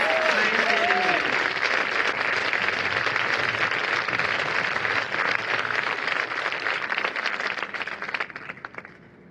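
At a Metamora Township High School graduation ceremony, an audience gives a loud, sustained round of applause for veterans, dense clapping that carries on for several seconds before gradually tapering off.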